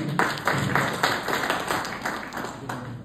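Audience applause at a company success meeting, greeting the CMD: a steady crowd clapping with rhythmic bursts of hand claps that swell and sustain for several seconds, fairly close and loud.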